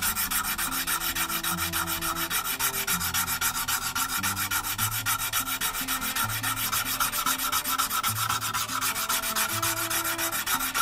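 Knife blade being polished by hand with Gesswein diemaker stones at 320 grit, a steady rhythmic scraping rub in quick back-and-forth strokes, close and continuous with no talking.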